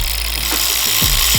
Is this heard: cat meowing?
no